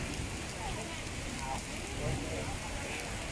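Rain falls steadily at Wat Khao Tabaek, a Thai temple, making a continuous broadband hiss throughout with faint voices in the background.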